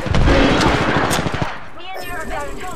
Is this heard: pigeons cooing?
no